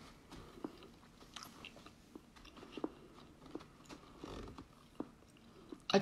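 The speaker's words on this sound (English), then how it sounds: "so I'm still chewing on it" Soft, wet chewing of a gummy candy, a Rummybear, up close and quiet, with irregular small squishes and clicks spread evenly throughout and no talking.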